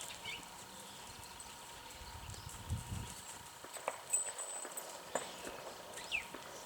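A horse moves around at a clinic, its hooves thudding and clopping softly and irregularly on the ground, faint and a little distant over a quiet background hum, with no talking.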